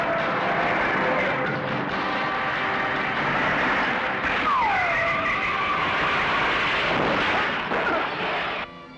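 A car skids hard on a punctured tire during a forest chase, a loud continuous screech with a sliding tonal sweep midway, engine roar and rumble throughout, ending abruptly.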